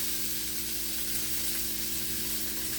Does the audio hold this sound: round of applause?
no